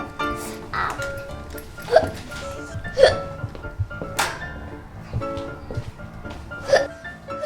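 Repeated short hiccups, about five or six sharp vocal jerks spaced irregularly over several seconds, close and fairly loud against a quiet background.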